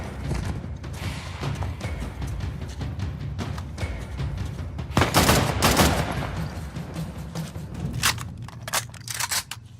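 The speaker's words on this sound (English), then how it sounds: "What's that shot?" Sharp gunshots and bursts of gunfire in Uncharted: The Lost Legacy, scattered cracks with a denser cluster midway and more shots near the end, over steady ambient background.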